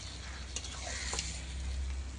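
Mutton frying with spices in a pan while a spatula stirs it, a low continuous sizzle with a few soft scrapes, fairly quiet and steady with no talk.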